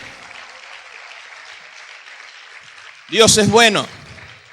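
A church congregation claps loudly and steadily for about three seconds, the applause then giving way to a voice speaking close and clear over the fading claps.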